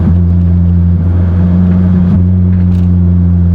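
A Lotus Exige sports car engine idles with a deep, steady rumble and low harmonic hum, loud and close, holding constant throughout.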